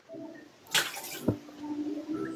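Water splashing in a bath, with a sharp burst of spray and a second splash over a low running-water background.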